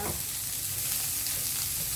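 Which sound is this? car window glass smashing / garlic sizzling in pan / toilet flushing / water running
garlic sizzling in pan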